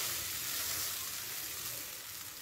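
Poha stirs and fries in a pan over a lowered gas flame. A soft, steady, fairly faint sizzle carries on with no talk.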